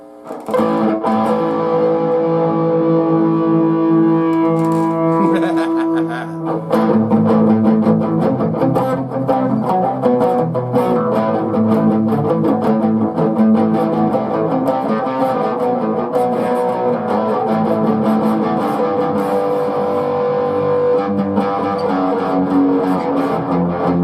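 A cheap Johnson acoustic-electric guitar played through distortion, sustained gritty chords ringing loudly and continuously, with a brief pause and re-strum partway through.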